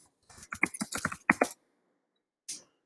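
Typing on a computer keyboard to enter a search: a quick run of close key clicks and taps for about a second, then a pause and one more short burst of keystrokes.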